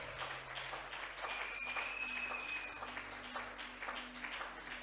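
Church congregation applauding during a French-language thanksgiving worship service, a steady wash of clapping filling the room at moderate volume for several seconds, with a brief high whistle-like tone partway through.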